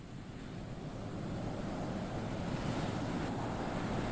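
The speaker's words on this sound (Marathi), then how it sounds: "उंच उंच लाटा ज्या आहेत त्या किनाऱ्याला धडकतायत" High waves surge against the shore during Cyclone Tauktae, mixed with gusting wind buffeting the microphone. The roar is a broad, steady rush that builds slightly and then holds loud and continuous, with no talking.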